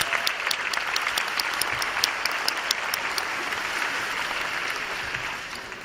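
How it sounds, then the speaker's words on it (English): Audience applause for the Southland College Prep class of 2019 at their graduation, a sustained, loud wall of clapping with crisp individual claps popping out near the front, slowly tapering toward the end. "let me give you a round of applause myself just for that"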